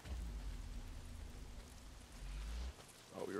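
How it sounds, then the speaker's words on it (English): Rain pours down steadily in the video game Days Gone as a broad, even wash of noise with low rumble underneath and a brief disturbance near the end. "A lot of it's pissing down the rain."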